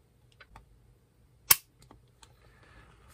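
A Colt 1903 Hammerless pistol being dry-fired, giving a single sharp metallic click from the trigger pull, close and isolated amid a few faint handling ticks.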